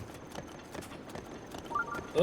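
A horse's hooves clip-clopping in Zelda: Breath of the Wild, soft rhythmic thuds at moderate distance over a quiet game backdrop, ending in a louder burst.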